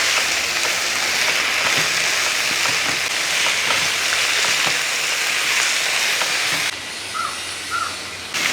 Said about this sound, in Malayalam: ഇപ്പോൾ കറിവേപ്പിലയും കൂടി ഇട്ട ശേഷം ഒന്ന് ഇളക്കി കൊടുക്കുക